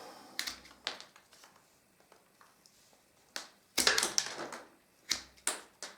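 Willow base sticks for a basket are cut to length with a series of sharp snips and crunchy cracks, scattered irregularly, close and fairly loud against a quiet background.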